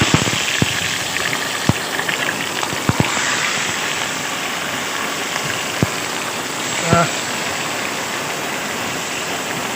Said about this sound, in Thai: ทั้งฝนทั้งลมครับ